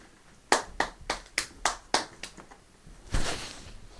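A studio audience gives a short burst of applause: about seven sharp, distinct claps in a steady rhythm, close and fairly loud, followed by a brief fuller flurry of clapping before it fades.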